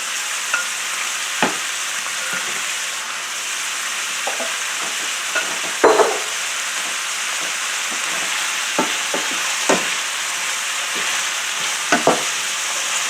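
Sliced yellow squash fries with onions in a pan, a steady hiss broken by repeated clinks and scrapes of stirring, close and loud with no talk.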